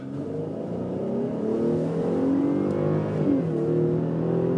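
A 2017 Dodge Durango Citadel with the Pentastar V6 launching hard from a brake-torque start, a loud close engine roar climbing steadily in pitch as it accelerates, with a slight dip at a gear change.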